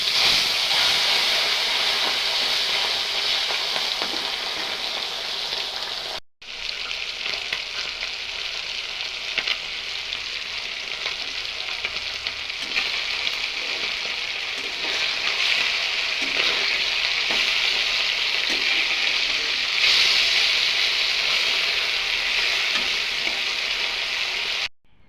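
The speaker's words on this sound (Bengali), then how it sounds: "এই একই তেলে এই যে এই মাছগুলো ভাজা নিব।" Fish fry in a pan of hot oil with a loud, continuous sizzle and hiss, steady apart from one brief drop near the start.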